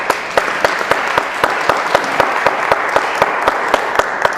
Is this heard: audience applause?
yes